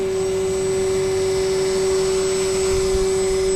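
The electric motor of an EPP Spirit RC plane on a lighter battery, flying over a park on a windy day, gives a steady, loud, continuous whine that holds an even pitch throughout.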